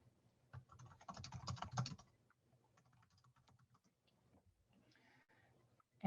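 Keystrokes on a computer keyboard entering a search into a library catalogue, a quick burst of close clicking for about a second and a half, then sparse faint taps in a quiet room.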